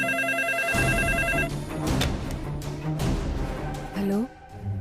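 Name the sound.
telephone ringing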